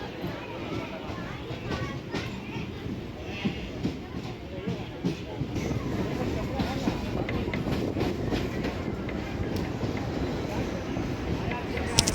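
An MRTS commuter train on the Chennai Velachery–Beach line runs along its rails, giving a steady close rumble with rhythmic clatter and brief squeals, while faint voices murmur in the carriage.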